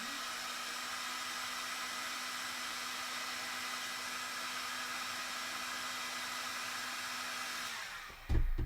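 A heat gun warms cosplay shoe armour pieces from the inside, a steady, loud, close airy whoosh with a faint motor whine that runs unbroken for about eight seconds, then a short clunk as it stops.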